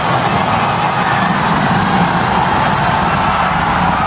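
SpaceX Super Heavy booster engines hover during a tower catch at a Starship launch site, heard as a steady, dense, broadband roar that stays loud and unbroken throughout with no voices.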